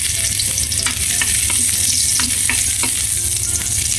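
Chopped garlic fries in hot cooking oil in a pan, giving a loud, steady sizzle broken by a few stirring knocks throughout, with no voices.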